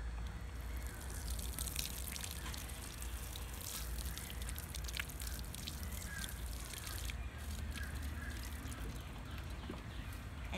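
Water is poured onto young garden plants, including sprouting sweet peppers, making a soft continuous trickling and dripping hiss at low volume throughout, with no talking.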